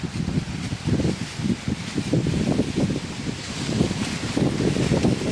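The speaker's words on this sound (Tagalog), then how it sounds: "Musipa na pud ang hangin." Strong, gusty super typhoon wind roars steadily against the microphone on a banana farm, with rumbling buffeting and rustling throughout.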